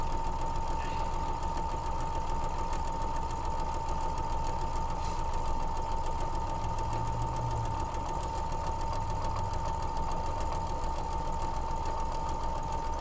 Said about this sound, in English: we're going to go ahead and get these 2 pieces sewn up together